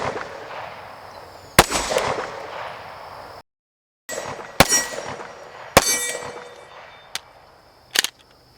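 A Canik TTI Combat pistol fires at steel targets, with about five sharp, loud shots spaced irregularly, each followed by a ringing metallic clang, and a brief silent gap between strings.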